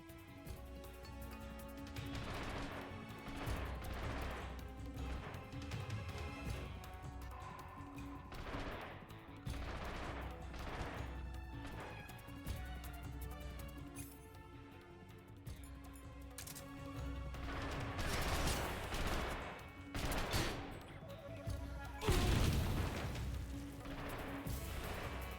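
Bursts of gunfire from Metal Gear Solid Delta: Snake Eater ring out over a steady game soundtrack, with rapid volleys and heavier blasts growing louder toward the end.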